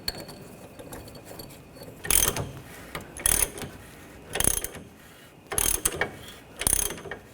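A ratchet wrench tightens a bearing press tool that pulls the hub into the front wheel bearing of a 2013–2022 Buick Encore. Five loud, sharp ratcheting bursts come about a second apart, close up, with quiet gaps between them.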